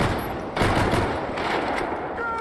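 Rapid automatic gunfire in the video game GTA V zombies mode, dense bursts of shots continuing throughout, loud and close, with some talk in the background.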